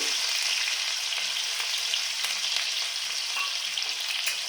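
Garlic and dried chili fry in hot oil with a dense, continuous crackling sizzle, loud and close, with scattered sharper pops and no voices.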